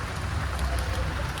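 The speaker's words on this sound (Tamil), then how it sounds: "நல்லா மழை பெய்யுது, நல்லா திடீர்னு மழை ஃப்ரெண்ட்ஸ்" A sudden heavy downpour falls outdoors, a steady, close wash of rain hissing evenly across the whole moment without pause.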